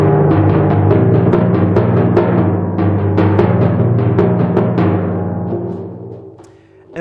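Timpani struck at forte in a left-handed crossover sticking, a rapid stream of booming resonant strokes that ring together and then decay and fade toward the end, close and full.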